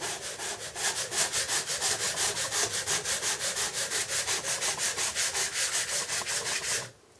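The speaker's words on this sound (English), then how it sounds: "this is 220 grade sandpaper made for drywall, and what you want to do is just nice and smooth over it" Hand sanding a patched drywall hole with 220 grade drywall sandpaper: quick, even back-and-forth scratchy strokes, close and steady in a regular rhythm, stopping abruptly near the end.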